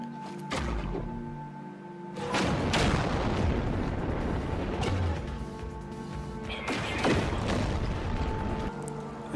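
A plasma launcher fires in No Man's Sky, letting out loud booming blasts with crackling, explosive tails. Several heavy discharges follow one another over a steady droning game background.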